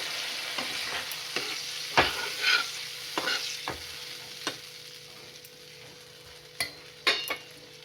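Katla fish and water going into a pan of oily fried spice paste, with a steady close sizzle broken by sharp clanks and scrapes of a utensil against the pan.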